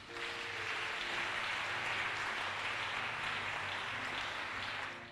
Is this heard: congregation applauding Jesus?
yes